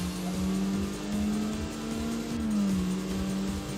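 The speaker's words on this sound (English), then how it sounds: "Oh man, this car does sound very nice though." A tuned race car engine in the Tokyo Xtreme Racer video game holds a loud, steady drone with a slight pitch dip and rise, continuous and close throughout, with no talk.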